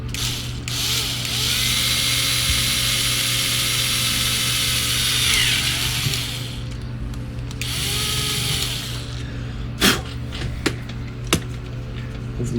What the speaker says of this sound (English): So I'm going to drill a hole very gingerly.